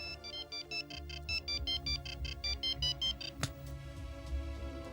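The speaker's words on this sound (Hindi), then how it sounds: "जिसका रिंगर कुछ इस प्रकार है।" A Kivon 22 mobile phone ringing with a repeating electronic ringtone, a rhythmic series of short bright beeping bursts over a low synthetic backing, clear and close, with no talking.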